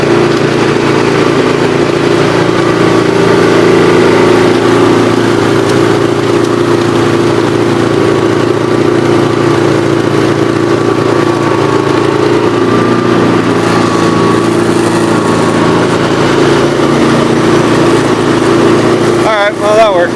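Snow-clearing machine 83 in first gear, its engine droning steadily and loud as it pushes into frozen ice, with a constant mid-pitched rumble and a faint whine running throughout.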